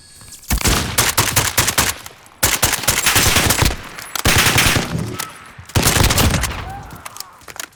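Loud assault rifle fire in Call of Duty Modern Warfare, shooting through a wooden wall: three long automatic bursts in close succession, each a dense rattling volley with brief gaps between.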